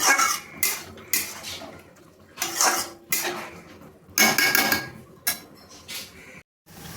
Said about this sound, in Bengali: এবার আমি ভালো করে নাড়িয়ে নেব।